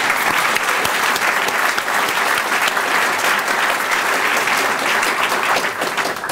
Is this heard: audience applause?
yes